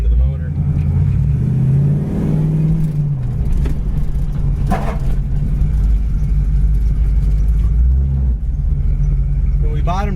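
A 1968 Ford Mustang engine rumbles loud and close with a rising rev around the middle, then settles into a steady idle drone; a person talks over it.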